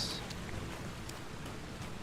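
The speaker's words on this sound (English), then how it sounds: "It's raining, bruh." Steady rain pours in the medieval open world of Kingdom Come: Deliverance II, a constant broadband hiss with faint patters throughout, fairly soft and unbroken, with no talking over it.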